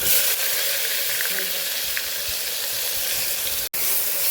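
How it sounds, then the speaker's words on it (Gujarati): Steady oil sizzle and frying crackle, close and continuous, with occasional faint stirring clinks and no voices. "ડુંગળીને સરસ આપણે સાતડી લેવાની છે ડુંગળીનો કલર બદલાય ત્યાં સુધી એને આપણે સાતડવાની છે"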